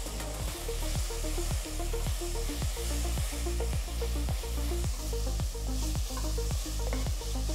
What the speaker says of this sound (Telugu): వీటిని కూడా 2 నిమిషాలు వేయించాలి.